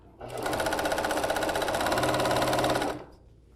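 A sewing machine stitches a straight seam down the center of a fabric stripe, a loud, even mechanical whir with rapid needle rhythm that starts, holds steady for about three seconds, then stops.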